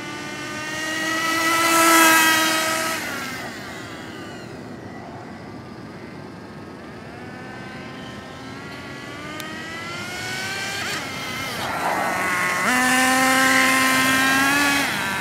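Nitro-powered Exceed RC Rally Monster truck engine buzzing high and whiny, rising and falling as it revs and passes by, swelling near then easing off, with no talk over it.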